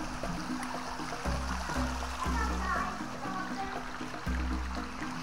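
Small baby catfish splash and flap as they are put into water, giving a steady wet sloshing under continuous nearby talk from a child and an adult.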